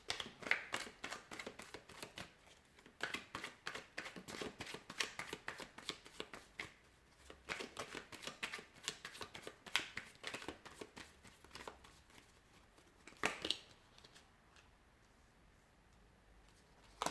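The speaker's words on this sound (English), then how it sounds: "So we'll give the cards a shuffle and see whom the universe is sending into your life next." Tarot cards being shuffled by hand, a rapid run of crisp flicking and riffling bursts with brief pauses, close and fairly quiet, with no voices.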